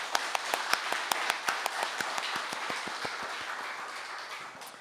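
A congregation at a Korean dawn worship service claps in thanks to God. The applause is dense and steady with sharp individual claps standing out, and it eases off slightly toward the end.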